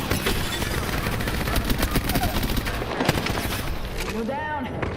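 Rapid bursts of automatic gunfire from the video game Apex Legends, dense and continuous throughout, with a voice talking over the shooting.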